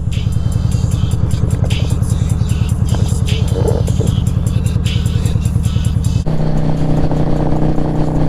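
A motorcycle engine drones steadily at high revs while riding on a bike that has no sixth gear, loud and continuous, with a drop in pitch and tone near the end as the rider shifts or eases off.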